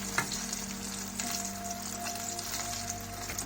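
Brinjals (eggplant) frying in oil with a dense, steady sizzle, close and even throughout, plus a faint low hum beneath.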